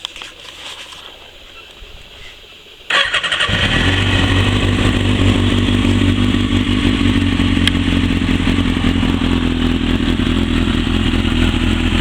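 A motorcycle engine fitted with a GP Pro aftermarket exhaust fires up after a few quiet seconds, then settles into a loud, steady, rumbling idle with a deep burbling exhaust.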